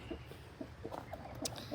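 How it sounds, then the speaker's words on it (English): Low, soft clucking and murmuring from broody hens close by, a steady grumbling stream of short throaty sounds. "So we've got two broody chickens I'm going to introduce you to."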